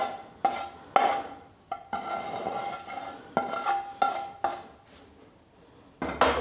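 A ladle stirs a sweet mixture of sugar, roasted dry fruits and flour in a pan for laddoos, giving a series of close, distinct clinks and scrapes against the metal at irregular intervals, with no talking.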